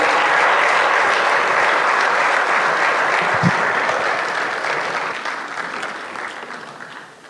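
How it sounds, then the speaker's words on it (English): An audience gives a standing ovation at a team-building talk, sustained loud clapping from a large crowd that holds steady before gradually fading toward the end. "Another big round of applause."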